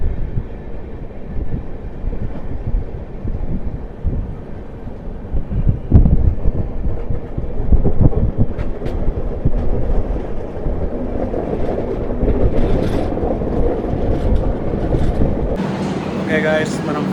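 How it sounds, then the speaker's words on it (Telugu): The Prashanti Express, train 18463, runs along the track through a curve, a loud sustained rumble of wheels and carriages with wind buffeting the microphone, clanks and screeches building toward the end, and a voice talking over it. "ఫుల్ టర్నింగ్ కొడుతుంది ట్రైన్"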